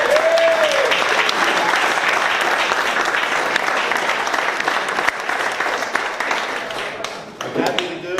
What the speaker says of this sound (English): I'd like everybody to give Michael Cox a round of applause.